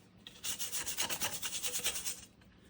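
A stiff brush scrubs back and forth over a dirty old Alcoa aluminum wheel rim during washing, a steady run of rhythmic bristly strokes, close and fairly loud, with no talking.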